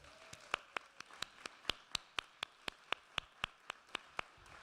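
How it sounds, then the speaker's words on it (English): Sparse, evenly spaced hand claps from a small audience at an awards event, quiet and distant, with a steady rhythm of about four claps per second. "A little round of applause for my board."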